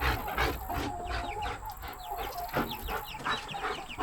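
Several chickens, mostly black hens, cluck and chatter close by, overlapping short calls in an irregular stream, with farmyard background noise.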